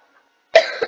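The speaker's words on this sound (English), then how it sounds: "if you hear me coughing," A single short, harsh cough bursts out after a moment of silence, close and fairly loud.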